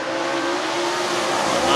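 Super late model race cars roaring together at the start of a dirt-track race, a dense, loud, continuous engine drone that builds slightly toward the end, with a commentator talking over it.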